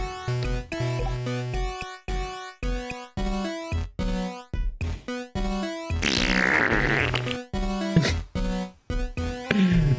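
Chiptune-style fart sound effects from a GB Studio Game Boy-style game, a rapid series of short, loud buzzy bursts with one longer noisy, bubbly blast in the middle, played alone.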